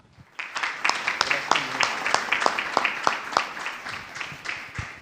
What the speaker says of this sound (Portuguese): Salva de palmas para Cristo.